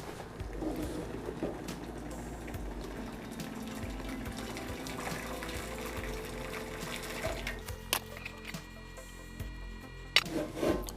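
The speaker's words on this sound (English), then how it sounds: "So my water is almost boiled, so let's pour that." Boiling water is poured into a de Buyer carbon steel pan, giving a steady, close-up liquid rush and trickle. A few clinks and splashes come near the end.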